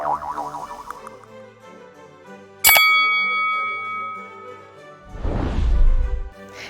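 A bright notification bell rings once sharply midway, its metallic tone lingering and slowly decaying, set among soft chiming tones and a low rumbling whoosh near the end.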